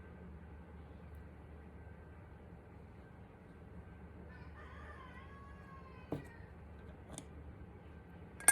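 In the evening a bird gives one drawn-out squawking call partway through, fairly faint over a low background hum, followed by a few scattered clicks.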